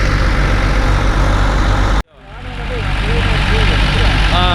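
A Hino RJ bus engine rated at 260 HP idles at a bus terminal, a steady low diesel rumble that cuts out abruptly midway, then swells back in beneath people talking nearby.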